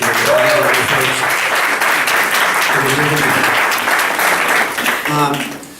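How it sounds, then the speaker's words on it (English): An audience breaks into sustained applause, dense clapping filling the room for several seconds while a voice talks over it. "So a little round of applause"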